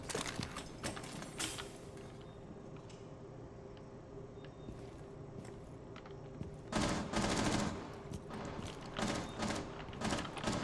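Bursts of rapid gunfire in a video game, several sharp volleys early on and a denser stretch later, moderately loud against a quieter background.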